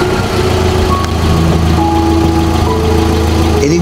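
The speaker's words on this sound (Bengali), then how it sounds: "দেখো না গাড়ির শব্দ হচ্ছে।" A car engine idles steadily at close range, a continuous low rumble with a faint knocking vibration and a few brief tones above it, running without break and with no talk.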